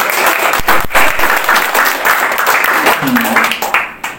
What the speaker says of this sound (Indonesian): tepuk tangan dong Bapak Heri dong.